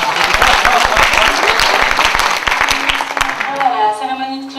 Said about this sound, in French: Voilà, on peut applaudir